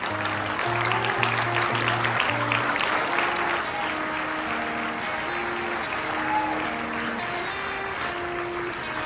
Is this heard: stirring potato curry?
no